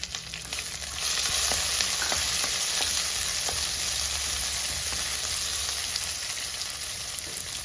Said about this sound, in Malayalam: ഒരു പത്ത് ചുവന്നുള്ളി ഒന്ന് ചതച്ചെടുക്കണം എന്നിട്ട് അതും കൂടെ നമുക്ക് ഇതിലേക്ക് ഇട്ട് കൊടുക്കാം